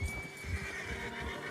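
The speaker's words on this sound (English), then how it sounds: "Get a hold of that horse, Arthur." Horse neighing in the video game Red Dead Redemption 2, a short whinny over a steady bed of game ambience and low thudding hooves, close and fairly loud.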